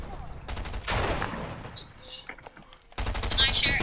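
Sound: gunfire from a gun in a shooting video game

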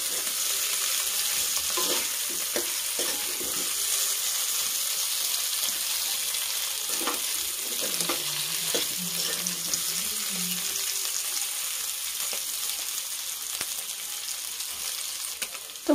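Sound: frying potatoes until golden brown

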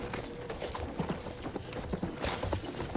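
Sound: horse hooves in video game

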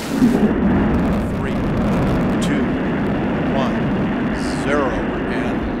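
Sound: Space Shuttle Atlantis launch, STS-129 liftoff

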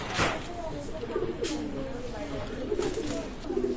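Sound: pigeons cooing

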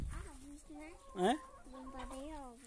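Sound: chickens clucking

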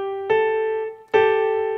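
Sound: two notes of a scale, interval of a second

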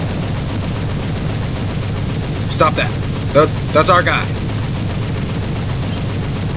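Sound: biplane machine gun fire in the video game War Thunder

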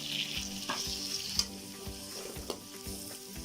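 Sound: tomato and onion sautéing in pan

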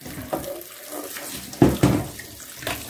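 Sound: tap water rinsing tripe

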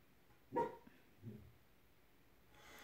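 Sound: dog barking

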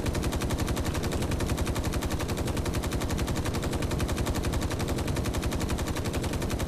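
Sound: gunfire in the video game Space Engineers

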